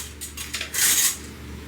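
A washed metal mason jar lid being handled produces a few quick light clinks followed by a brighter metallic clatter, close and brief with no voices.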